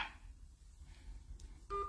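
A telephone keypad tone sounds during an international call: one short, clear dual-tone beep near the end, following a quiet stretch with faint background hiss.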